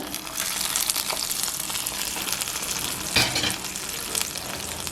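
Jaggery water sizzles steadily in a pan as ghee-fried cashews and raisins are stirred in for sago and moong dal payasa, a constant close frying hiss with scraping stir sounds and a brief louder clatter.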